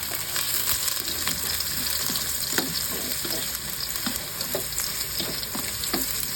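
Ginger, garlic and onion sautéing in a pan for chicken sinampalukan, a continuous close sizzle broken by repeated stirring scrapes and clicks.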